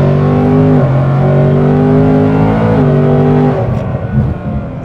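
An electric Shelby car in sport mode accelerates, its motor giving a loud, steady whine that steps down in pitch twice as gears shift, then fades at the end.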